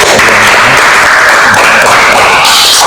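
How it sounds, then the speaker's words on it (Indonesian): Steady broadband clapping from a classroom of students applauding the first group to finish, a dense, even patter lasting a few seconds without speech. "Beri aplaus."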